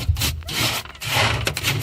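Car sound-deadening insulation on a G35 drift car floor being frozen with dry ice, giving close, dry crackling and scraping rubbing noises in uneven bursts, fairly loud with no talking.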